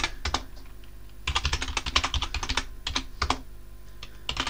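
Fast, close keystrokes on a computer keyboard while entering a terminal command on Debian, coming in quick bursts separated by short pauses.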